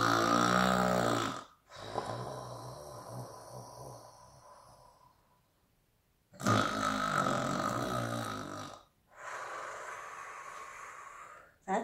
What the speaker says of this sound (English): That's Mr. Noisy snoring. It's very loud indeed, isn't it?